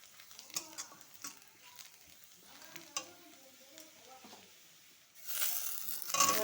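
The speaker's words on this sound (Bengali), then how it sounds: "দেখো পেঁয়াজ ভাজা হয়ে গেছে।" Onions fry in a pan for ridge gourd bharta, a quiet sizzle punctuated by spatula scrapes and clinks, then a sudden loud hissing burst near the end.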